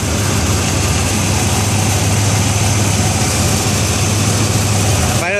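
A truck engine idling steadily after its timing was advanced slightly, a loud continuous low rumble close by that holds evenly throughout.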